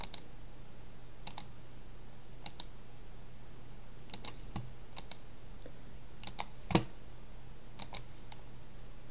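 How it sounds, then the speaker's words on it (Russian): Keys on a computer keyboard are pressed one at a time in sparse, irregular clicks, crisp and close, with a faint steady hum behind and no talking. "теперь на клавиатуре нажимаю эту клавишу, что станет L1"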